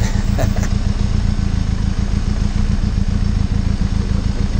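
Benelli TRK 502 X motorcycle engine riding off-road over rocky hill and farm tracks near Cabo da Roca, a loud, steady low throb heard close up as if from the rider, with no talk.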